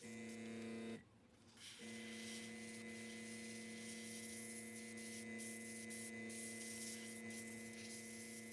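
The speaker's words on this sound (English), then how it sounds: "I'm going to paint this entire thing black using my airbrush." Airbrush spraying black paint onto an EVA foam prop knife, a steady close hiss with a constant compressor hum underneath, briefly cutting out near the start before resuming for the rest.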